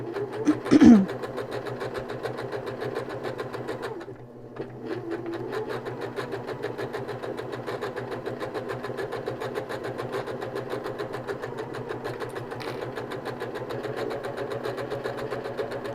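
Sewing machine stitching a hair scrunchie, a steady close mechanical whir with rapid rhythmic needle clatter running almost continuously, pausing briefly once before resuming.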